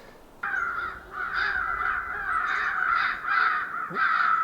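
Crows caw repeatedly in a steady run of harsh calls, fairly close and loud, in a winter woodland near a cabin during a hunting outing, with no talk.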